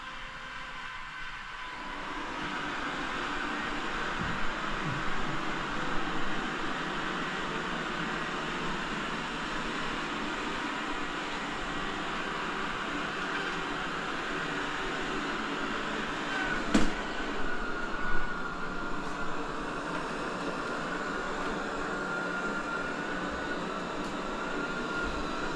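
A robot vacuum cleaner runs steadily in automatic mode indoors, giving off a continuous whirring drone with a few brief bumps and clatters as it moves around obstacles, alone without speech.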